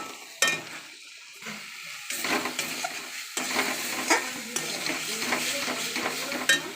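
A paste of onion, ginger, garlic and chilli frying in a wok with tomato, salt and turmeric, a close sizzle broken by clattering spatula scrapes and stirring against the metal.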